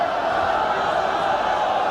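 Crowd in a boxing arena at the 2005 World Amateur Championships finals reacts to a dull bout, a steady, broad murmur of many voices filling the hall without distinct cheers.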